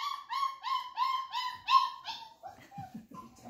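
A flat-coated retriever whimpers in a series of about seven high, nasal whines with a steady rhythm, then trails off into softer, broken whimpering, moderately close and alone.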